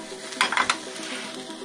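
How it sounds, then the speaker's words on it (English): Steady sizzling of burgers frying in a pan, with a few brief metallic scrapes and stirring clatters near the middle. "the pan's heating up for the burgers"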